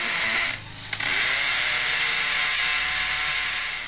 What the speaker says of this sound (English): Now I'm going to pre-drill into the masonry with our hammer drill.